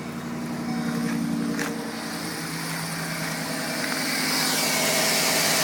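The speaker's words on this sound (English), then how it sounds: "There's your motor running." A 2011 Chevrolet Silverado 4x4 engine idles steadily with a low, even hum and some vibration, heard alone and close, growing slightly louder toward the end.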